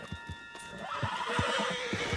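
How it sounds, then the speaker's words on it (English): A horse whinnies loudly over steady hoof clops in the video game Red Dead Redemption 2, with a rumbling, busy background throughout. "Put Strauss on the back of John's horse"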